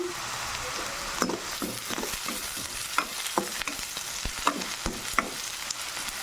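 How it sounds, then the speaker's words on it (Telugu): Onions fry with curry leaves and green chillies for a bean and tomato curry, a steady sizzle punctuated by regular sharp knocks and scrapes of a spoon stirring against the pan, close up and without speech. "కొంచెం బాగా ఫ్రై చేసుకుందాం ఆనియన్స్ ఇలా వేగుతున్నప్పుడు"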